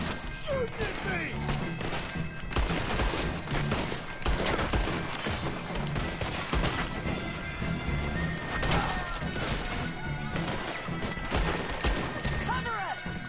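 Repeated gunfire in a Red Dead Redemption 2 shootout, dense volleys of cracks and thuds running throughout, loud and near, with shouted voices over the shooting.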